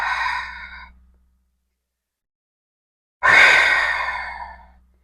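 Two deep, audible breaths during a strength training exercise, a short exhale at the start, then silence, then a longer forceful breath out that fades away. No talking.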